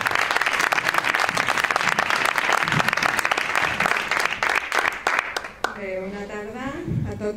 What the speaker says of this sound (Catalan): si l'aplaudiu és com un coixinet